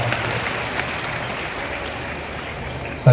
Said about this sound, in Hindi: जोरदार ताली बजाकर साधुवाद।